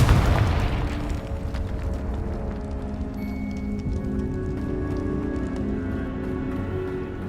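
Confringo spell explosion in Hogwarts Legacy: a loud burst at the start that decays into a long rumbling, crackling tail with steady ambient tones underneath.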